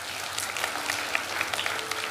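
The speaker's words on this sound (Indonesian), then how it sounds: "Tepuk tangan bagi Tuhan." Audience in a church sermon claps in steady, dense applause, moderately loud and continuous with no voices on top.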